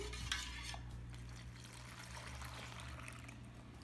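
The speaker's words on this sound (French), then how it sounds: "Je jette mon eau dans mon puits." Water poured by hand into a well of flour for homemade bread dough, a steady close trickle and splash lasting a few seconds with no talking.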